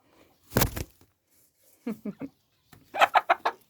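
Hen clucking near a chicken coop under construction, a few short bursts of clucks spaced apart with quiet gaps, close and moderately loud.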